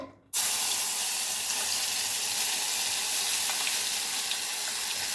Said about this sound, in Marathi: त्या तेलामध्ये मी आता मसाला टाकते